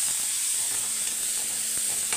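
Vermicelli fried in a pan with chili powder and green chilies gives off a loud, steady, close sizzle and hiss as it is stirred, with no speech.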